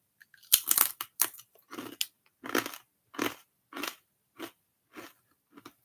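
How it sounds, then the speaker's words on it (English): Crisps being eaten up close: loud, crackly crunches come as a quick cluster of bites, then settle into a slower, regular run of chewing crunches with short silences between them. "I'm going to be eating crisps."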